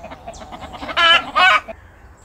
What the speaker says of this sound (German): Die Hühner sind los!